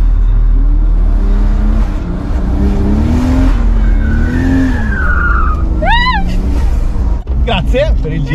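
A drifting car with four young women aboard roars close and loud, its engine pitch rising and falling while the tires squeal through the slide. Passengers talk and shriek over the noise.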